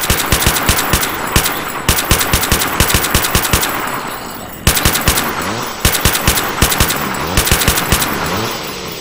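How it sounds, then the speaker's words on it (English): Sustained bursts of M249 machine gun fire in a video game, loud and close, with rapid rhythmic shots broken by short pauses between volleys. "Got an M249. Use that."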